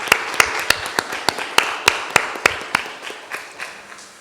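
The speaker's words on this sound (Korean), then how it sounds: "이들을 위해서 감사의 박수를 한번 하겠습니다" A church congregation at a Sunday service claps in slow, even unison. About fifteen crisp, regular beats grow gradually softer toward the end.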